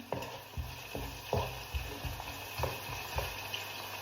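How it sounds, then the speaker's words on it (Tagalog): Chopped onion fries in a pan, a steady sizzle broken by regular scraping stir strokes roughly every half second, close up, with no talking. "inaantay ko lang na mag-brown-brown muna ang ating onion"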